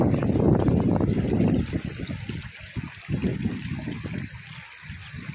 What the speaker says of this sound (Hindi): पानी जल्दी इकट्ठा होकर नाडियों में बहने लग जाता है।